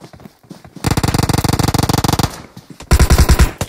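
Automatic gunfire laying down cover fire in a competitive video game match: a long rapid burst of loud, evenly spaced shots, a short pause, then a second heavier burst.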